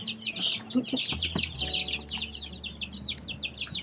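Chickens cluck and chirp in a busy, overlapping stream, fairly close, with a low hum running underneath for most of it.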